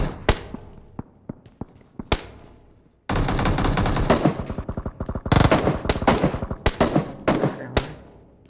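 Gunfire in the battle game PUBG: scattered single shots at first, then dense bursts of automatic fire crackling loudly and close, with a few separate sharp reports near the end.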